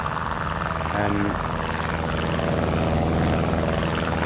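Steady droning propeller engine of a Chipmunk aircraft in Microsoft Flight Simulator 2020, loud and continuous with an even, buzzing rumble throughout.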